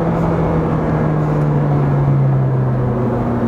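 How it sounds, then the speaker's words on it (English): A Ferrari 458 Speciale V8 engine runs close by with a loud, steady, gravelly drone whose pitch sags slightly, continuous and alone without talk. "You don't need me to comment on what a Ferrari V8 sounds like, you can hear it yourself."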